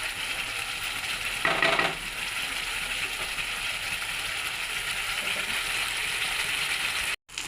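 Spice paste for a light fish curry with potato and eggplant sautés in a pan, a steady sizzling hiss with a brief louder burst of stirring near the start.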